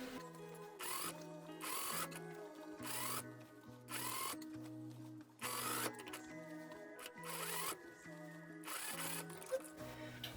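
A sewing machine top stitching the hem of a dress, running in repeated short bursts of rapid mechanical whirring with brief pauses between runs, close and clear.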